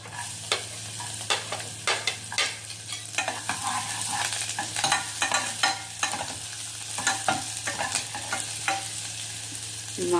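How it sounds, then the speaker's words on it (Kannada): Garlic frying in a pan over a low flame with little oil, stirred with a spatula: steady soft sizzle under repeated scraping clicks and taps, close and moderately loud, no voices. "ಈಗ ಬೆಳ್ಳುಳ್ಳಿ ಹಾಕೋಣ."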